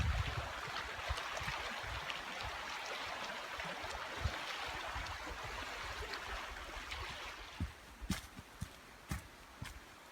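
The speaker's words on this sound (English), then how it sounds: "I'm standing on the rocky beach of Flagstaff Lake." Water laps quietly against the rocky beach of Flagstaff Lake in Maine, a soft, steady wash at low volume, with a few sharp knocks near the end.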